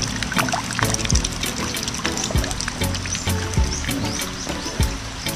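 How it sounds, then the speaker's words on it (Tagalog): Rainwater from heavy, nonstop rain pours and trickles steadily nearby, with distinct drips and splashes landing every second or so over a continuous watery wash. "Ulan."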